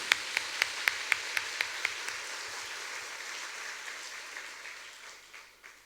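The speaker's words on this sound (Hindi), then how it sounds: "जोर से ताली बजाकर प्रभु को धन्यवाद दें।" A church congregation at a New Year's Eve night vigil claps loudly to thank God, first in a crisp, steady rhythm of sharp claps, then loosening into scattered applause that gradually fades.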